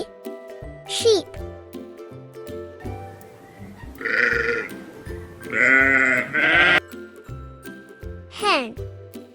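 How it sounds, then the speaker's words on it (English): A sheep bleats several times in the middle, quavering calls that rise and fall, heard over a simple, playful backing tune with brief squeaky effects at the start and end. "S-H-E-E-P. Sheep."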